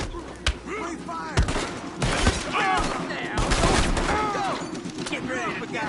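Bursts of gunfire crackle through a tense standoff with an intruder, sharp repeated shots mixed with shouting voices, loud and close throughout.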